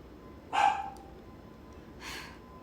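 A dog barks indoors, one clear bark followed about a second and a half later by a fainter second one, over a quiet room background.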